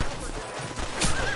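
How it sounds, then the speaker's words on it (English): A horse whinnies loudly in the video game Red Dead Redemption on PS5, with a brief clatter of hooves and a voice speaking beneath it. "Get away from them horses!"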